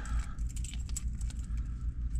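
Car keys for a 1967 Chevrolet Corvette convertible jingle softly in a quiet space, a few small, quick metallic clinks over a low steady hum.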